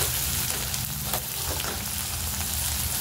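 Vegetables for fried rice sizzle steadily in a hot pan, a dense, even crackle with faint scraping of stirring and no voices.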